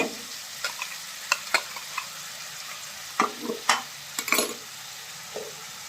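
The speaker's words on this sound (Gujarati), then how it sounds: "ડુંગળીની ગ્રેવી છે એકદમ સરસ મજાની સતળાઈ જાય આ રીતે" Onion gravy sautéing in oil in a home kitchen, with intermittent stirring clinks and scrapes over a low, steady sizzle, close and moderately quiet.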